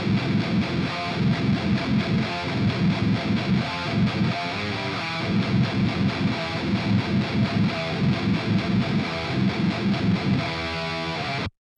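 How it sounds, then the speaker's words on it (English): An electric guitar plays through a cabinet impulse response captured with white noise, giving a continuous, dense, distorted tone with steady rhythmic strumming for about eleven seconds before stopping abruptly. "here is the white noise IR, which is the method that I showed you guys in my IR video"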